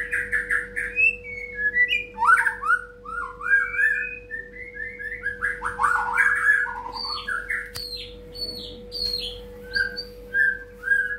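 A white-rumped shama (murai batu) songbird sings continuously, with rich, varied whistled phrases and chirps repeating in quick bursts. The bird sounds close and clear over a steady low hum.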